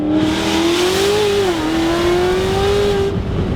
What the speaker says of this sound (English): This is my favorite sounding Corvette I have ever freaking heard